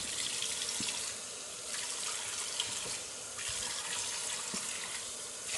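Tap water runs steadily into a bathroom sink while someone washes their face after removing 3D+ mascara, a continuous hiss with small splashing shifts in the flow.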